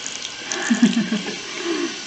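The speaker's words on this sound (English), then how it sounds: "So when I roll it, run it under the warm water." Warm tap water runs over a hand at a sink, a steady close splash and trickle with no talking.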